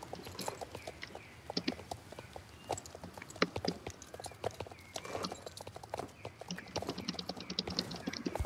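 Horse hooves clip-clopping steadily in a horse riding video game, a brisk even rhythm of light hoof beats, close and fairly quiet, with no voices.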